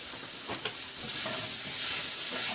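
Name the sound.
stirring mushrooms sizzling in oil in a pan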